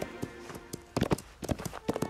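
Cartoon horse hooves clip-clopping in quick, uneven bursts as it runs off, fairly close and clear, with no voices over it.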